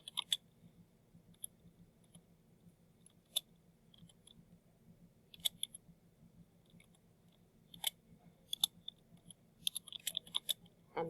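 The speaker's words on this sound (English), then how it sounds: "I'm typing in separate equations just because it's a little easier to do." Quiet, sparse clicking of computer keys as equations are typed, irregular taps and short bursts spread over several seconds above a low steady hum.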